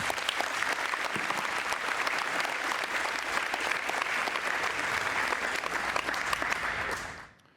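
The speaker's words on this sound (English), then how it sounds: "Let's give him a round of applause." A crowd at a high school athletics signing day claps steadily in a continuous round of applause that holds evenly, then cuts off abruptly at the end.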